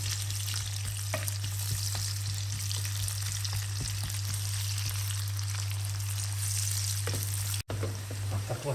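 Chopped onion fries in melted lard for bacon dumplings with cabbage, giving a steady low crackling sizzle over a constant hum, with a brief clatter near the end.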